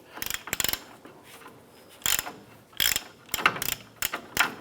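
Ratchet turning off the nut on the upper control arm ball joint of a 1994-2004 Chevy S10: quick bursts of clicking pawl teeth in short repeated strokes, close and clear with a pause between groups.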